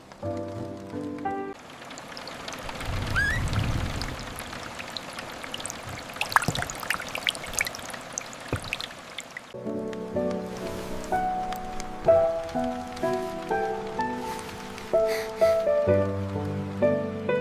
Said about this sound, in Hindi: बारिश की ये आवाज़ कितनी सुकून देती है।